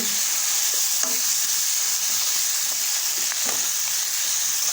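Steady, loud sizzling of ghol (purslane) greens frying in hot tempering oil, with occasional faint scrapes of stirring throughout.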